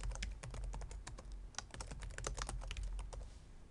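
Rapid, steady keystrokes on a computer keyboard while entering plot titles and axis labels in CONVERGE Studio software, a close, continuous clatter of clicks heard alone with no talking.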